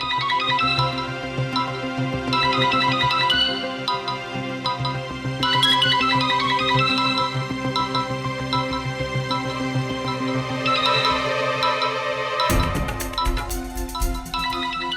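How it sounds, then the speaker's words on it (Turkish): A mobile phone ringing with a repeating melodic ringtone in a Turkish TV drama scene, steady and fairly loud over music-like tones, ending with a low thump near the close. "Kimin telefonu?"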